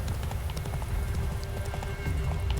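Roach the horse galloping across fields in The Witcher 3, a steady drumming of hoofbeats under continuous rumbling ambience, moderately loud.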